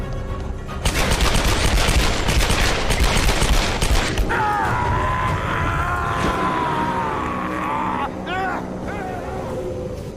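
Rapid gunfire from dual-wielded pistols in the video game Tomb Raider, a dense, loud burst of overlapping shots for about three seconds, then a steady tonal score with sweeping effects continuing alone.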